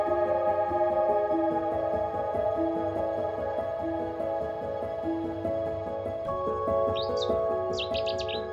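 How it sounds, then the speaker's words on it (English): Warblers and reed birds chirp in the early morning, brief high twittering calls breaking in toward the end over a steady droning tonal background. "The warblers and the reed birds all begin to make an appearance first thing in the morning."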